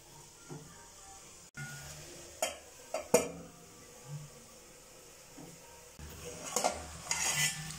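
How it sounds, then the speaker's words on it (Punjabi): Broccoli and potato sabzi stirred in a pan, with sporadic metallic scrapes and clinks of a spoon against the cookware and a faint sizzle underneath, fairly quiet and close. "ਸਬਜ਼ੀ ਨੂੰ ਆਪਾਂ ਹਿਲਾ ਦਾਂਗੇ ਇੱਕ ਵਾਰੀ ਵਿੱਚੋਂ।"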